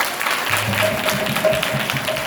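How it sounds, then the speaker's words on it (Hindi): Applause from a church congregation at a Hindi Christian service, a steady wash of clapping filling the whole moment, fairly loud and dense, with faint voices underneath. "जोरदार ताली बजाइए"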